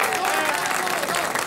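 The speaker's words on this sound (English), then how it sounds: "You must not applaud." An audience applauding during a political speech, a steady wash of clapping from a crowd heard at moderate distance, continuous throughout with a faint murmur of voices underneath.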